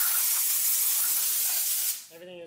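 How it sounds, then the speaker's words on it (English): An air gun blasts a loud, steady hiss of compressed air while blowing out belt, roller and pulley parts of a Vespa GTV-300 scooter, cutting off abruptly as a voice begins. "Combination of blowing it with an air gun."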